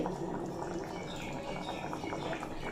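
A pot of lentil and green banana curry boils steadily, with a dense, continuous bubbling and gurgling of thick liquid close by and no talking.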